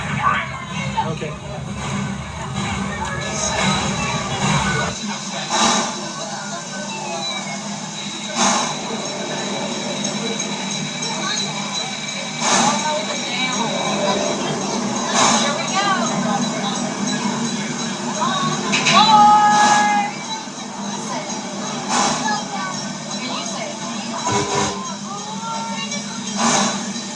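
A train sits at a station while passengers exit toward the front and back, with steady rumbling, occasional squeals and clanks, and scattered clicks over a continuous low hum. People talk throughout the scene.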